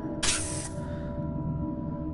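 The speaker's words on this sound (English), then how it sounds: "maybe if I spray it" A short hiss of an aerosol can being sprayed inside a VR horror game, about half a second long, loud and close over a steady game background drone.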